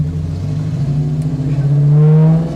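A 1970 Chevy Camaro Z28 with a high-performance engine revs at low RPM. The deep exhaust note rumbles and rises in pitch toward the end, close and loud, with no talking.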